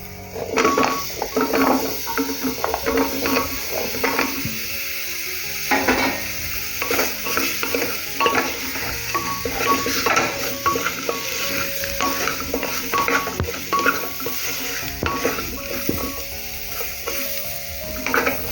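Elephant foot yam pieces sizzle and fry steadily in a hot pan with garam masala, with continuous crackling and a spoon scraping and stirring throughout, and no talking.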